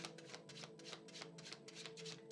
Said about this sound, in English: I'll just keep shuffling.